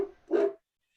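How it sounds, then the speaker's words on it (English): Dog giving a single short bark, close and fairly loud, followed by near silence. "Told you. Dog confirmed."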